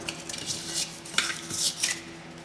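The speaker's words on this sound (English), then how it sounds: "Let's tear this to fit." Paper scraps for a journal are torn by hand in several short, crisp rustling rips and crinkles, close up and fairly quiet, with no talking.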